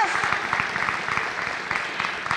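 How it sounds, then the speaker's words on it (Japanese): An audience at an ASICS basketball event applauds Yuki Kawamura, a steady, dense patter of many hands clapping close by throughout. "皆さん川村祐樹選手にもう一度拍手お願いします。"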